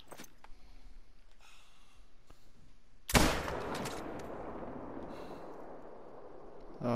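A single sharp rifle shot from a .270 during a sika deer hunt cracks loudly midway, followed by a rolling echo that fades over several seconds in an otherwise quiet outdoor setting.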